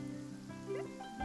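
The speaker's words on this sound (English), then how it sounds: "It's raining." Rain in the Genshin Impact video game, heard as a brief, faint, steady wash of falling rain under a soft musical score, with no talking.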